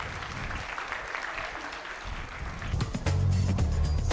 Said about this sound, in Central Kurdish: با بفەرموویێت بە چەپڵەکانتان.